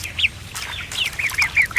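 A quick run of short, bright duck quacks from ducklings in the VR game I Am Cat, about a half dozen in under two seconds, close and clear over a quiet background.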